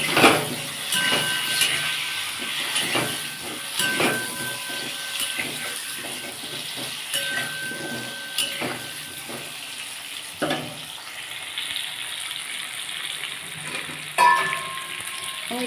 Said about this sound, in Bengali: দিয়ে বন্ধুরা ভালো করে আমি আলুটা ভেজে নেবো